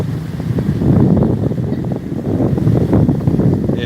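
Steady wind at the beach buffeting the microphone with a low rumble and gusty roar, continuous throughout, with faint water noise underneath.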